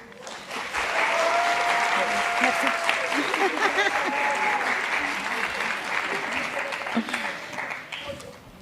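Sustained audience applause at an intercultural recognition gala, a loud, even wash of clapping from a crowd lasting several seconds, with a voice speaking over it.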